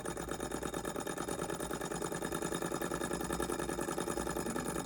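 A mini four-column beam Stirling hot air engine, the OKMO J06D, running on a tiny flame, giving a steady, fast, even mechanical ticking and whirring that carries on unbroken, close up and with no voices.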